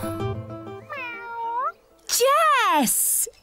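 A cartoon alien cat meows twice, a short wavering call followed by a louder, drawn-out rising and falling meow, close and clear at the end of a brief stretch of voice and music.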